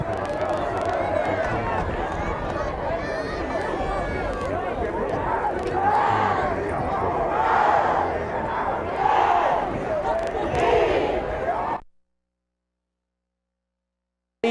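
A crowd at a high school boys' state championship soccer match cheers and chants loudly and continuously, rising and falling in swells for about twelve seconds before cutting to silence.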